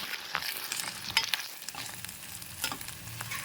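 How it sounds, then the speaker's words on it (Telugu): Seeds, salt and coconut powder frying in oil on a low flame for a cluster bean curry, with a steady soft sizzle and scraping stirs of a spoon in the pan, plus a few brief clinks. "దీన్ని ఈ ఈ నూనెలో కాసేపు ఫ్రై చేసుకోవాలండి సిమ్లో"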